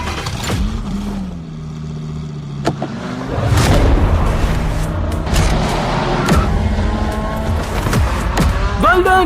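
A cartoon race car roars loudly through an animated race, its engine revving and surging with rising whines and tire squeal, under bursts of excited talk.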